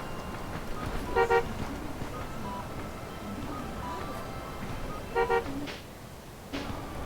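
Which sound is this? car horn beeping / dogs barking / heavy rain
car horn beeping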